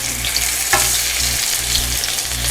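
Zucchini flowers pan-frying on high heat, a loud, dense, continuous sizzle close up, with a brief stirring or flipping clatter partway through and no talk.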